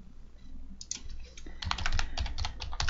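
Typing on a computer keyboard while searching for a library in Arduino software, starting with a few sparse keystrokes and then a rapid close run of clicking keys.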